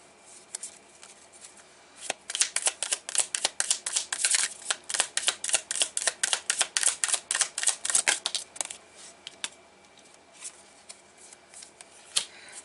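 A deck of tarot cards is shuffled: a quick, fluttering run of crisp card riffles, close and clear, followed by a few isolated taps as the cards settle.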